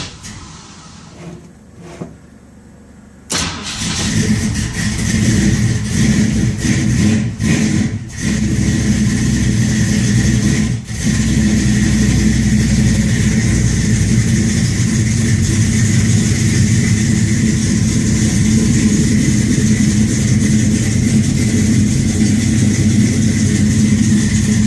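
A 1965 Ford Mustang engine cranks briefly, catches and starts, then settles into a loud, steady running idle with a few small revs, close up and continuous, with no talking.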